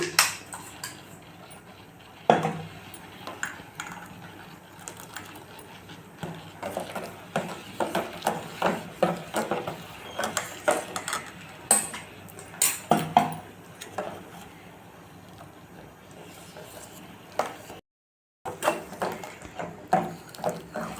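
Metal spoon repeatedly scraping and clinking against the bottom of a pot while stirring a drink, an irregular series of taps and scrapes up close, with a brief pause near the end.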